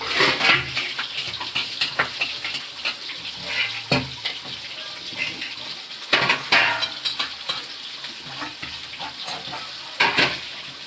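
Mangodi lentil dumplings frying in a pan of hot oil, a steady close sizzle with bursts of crackling and occasional stirring and utensil clinks.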